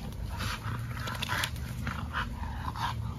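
A 5-month-old American Bully puppy growls low and close in a string of rough, uneven rumbles with short breaths between them, with no talk over it.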